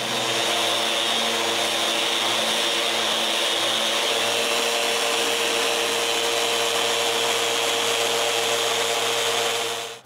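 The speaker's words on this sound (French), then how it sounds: "je fais un dernier sablage sur le contreplaqué" A power sander does a final pass over plywood for a bathroom vanity, giving a loud, steady, continuous whirring drone up close that cuts off at the end.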